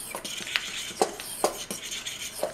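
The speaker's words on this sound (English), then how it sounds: "Now you're just going to mix all the dry ingredients together." Dry ingredients for Irish soda bread are mixed in a bowl, with soft scraping and stirring and a few sharp clinks of a utensil against the bowl, close and moderately quiet, with no talking.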